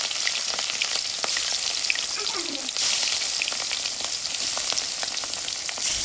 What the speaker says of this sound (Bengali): এখন একটা কড়াইতে পরিমাণ মতো তেল গরম করে এর মধ্যে দিয়ে দিব মাখিয়ে রাখা মাছ।